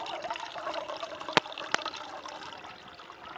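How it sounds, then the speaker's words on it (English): Water trickles and pours steadily into a cooking pot at a winter motorcycle campsite beside a KLR 650, a soft continuous splash with two brief sharp clinks partway through. "So, I'm gonna have to use some water to fill up the rest of the way."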